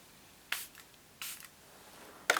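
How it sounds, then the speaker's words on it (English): Short hissing bursts from a water spray bottle misting a handmade paper card, three separate quick sprays spaced apart in a quiet room. "you'll probably hear the bottle go tss"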